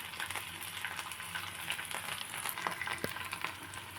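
Ginger garlic paste fries in hot oil while curry leaf rice is being made, making a steady, soft, continuous sizzle dotted with small crackles and pops, with no talking.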